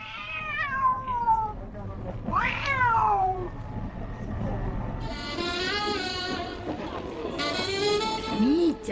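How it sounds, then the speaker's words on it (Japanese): A cat meows loudly and repeatedly aboard a train, drawn-out wailing cries over a steady rumble of carriage noise, with someone talking throughout. "みーちゃんうるさいでしょ"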